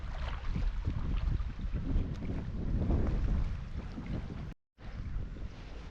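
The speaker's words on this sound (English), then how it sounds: "The sound of the water rolling in with the little waves" Small waves roll in and lap steadily against a lake shore in a wild Scottish landscape, a continuous near wash of water mixed with wind buffeting the microphone, with a brief dropout near the end.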